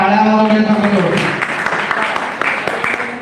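Audience clapping greets a new poet at an open poetry gathering in Nashik, a dense burst of applause that swells and holds steady for a few seconds after a voice fades out at the start.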